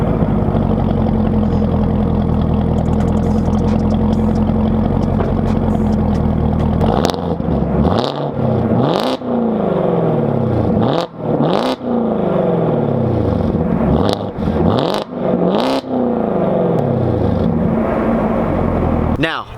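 A Chevrolet Camaro ZL1 V8 exhaust in track mode idles with a deep rumble, then a series of sharp revs rise and fall repeatedly, loud and close, crackling between blips.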